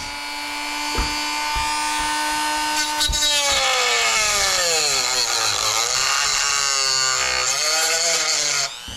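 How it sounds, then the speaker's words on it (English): A cutoff wheel on an angle grinder cuts metal while a motor mount is fitted to a UDI Arrow 5. It whines loud and close, starting up and then grinding steadily for several seconds, its pitch dipping and rising as the load changes. "We're going to start kind of grinding here. Slow speeds, guys, slow speeds."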